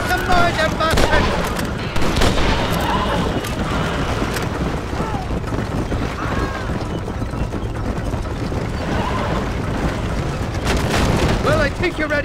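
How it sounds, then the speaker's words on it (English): Enemy gunfire in the Western video game Red Dead Redemption: dense, repeated shots and booms rattle on steadily throughout, loud and close, over a busy game soundscape. "They're shooting right at me."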